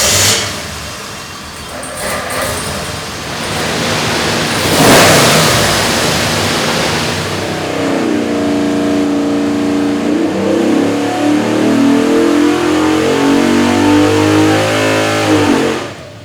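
Gen III Hemi V8 fitted with Edelbrock Hemi cylinder heads on an engine dyno, building from a rough idle into a loud, steadily rising rev pull that holds a strong harmonic drone near the end, with no voices.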